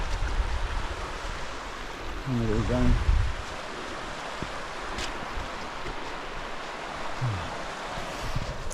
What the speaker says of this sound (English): But it's been nice walking along this river.